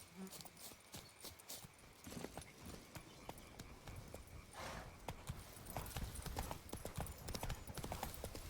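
Hooves of Roach, the horse in The Witcher 3: Wild Hunt, clip-clopping at a gallop across ground, a fast repeating patter that grows louder toward the end under soft background game sound.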